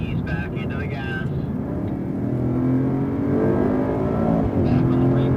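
A Mercedes-AMG car on the Circuit of the Americas track accelerates as the throttle comes back in, engine note rising steadily and filling the cabin, with a person talking over it at the start.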